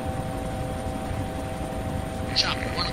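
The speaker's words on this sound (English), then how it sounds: "Chopper" A helicopter in the video game ARMA II drones steadily at a distance, a low continuous rotor and engine hum running throughout.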